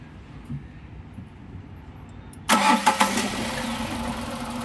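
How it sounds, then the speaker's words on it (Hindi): A car engine being checked during ignition coil and wiring tests cranks and fires after about two and a half seconds of near silence, then settles into a steady, fairly loud idle. "अब मैं गाड़ी को स्टार्ट करूँगा दोस्तों"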